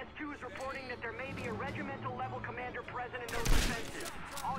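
A single loud sniper rifle shot from the World War II shooter Medal of Honor: Airborne cracks out near the end, following a stretch of busy game sound and voices talking.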